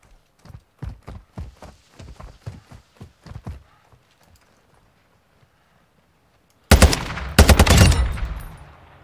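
Automatic gunfire in Warzone 2.0 DMZ aimed at an AI enemy, loud rapid bursts that break in abruptly after a stretch of footsteps and quiet, filling the last couple of seconds.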